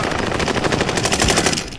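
Rapid automatic gunfire in a shooting video game, a loud, dense, continuous burst of closely spaced shots with no talking over it.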